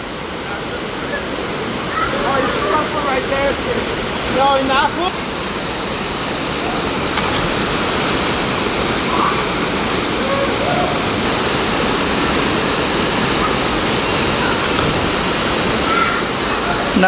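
Waterfall in Burlington, Vermont, a steady broadband rush of falling water close by, with faint voices and a crow calling briefly over it.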